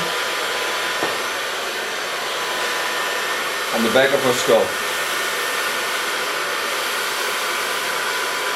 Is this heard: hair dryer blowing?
yes